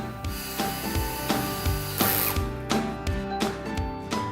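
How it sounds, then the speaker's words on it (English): Trim head screws driven through metal tracks into cedar on a potting bench frame, a repeated ratcheting, whirring mechanical chatter with regular pulses, close and fairly loud throughout. "attach the metal tracks to the cedar with trim head screws"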